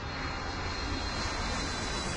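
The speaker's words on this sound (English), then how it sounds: "planes can roll again" Airplane engines rumble steadily on a taxiway at Hartsfield-Jackson Atlanta International Airport, a broad continuous roar with no breaks, fairly loud and close, with no talk.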